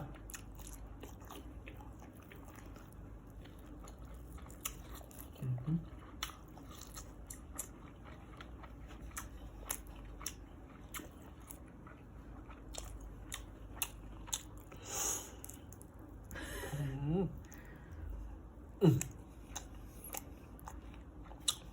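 Crunchy chewing and biting of a Thai meal of fried dried beef with tomato chili dip, blanched vegetables and omelette, heard close up as repeated crisp crunches in irregular bursts over a quiet background.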